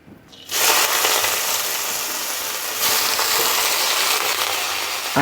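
Chopped onions drop into hot mustard oil in a kadai and burst into a loud, steady sizzle that starts suddenly and keeps crackling close up without pause.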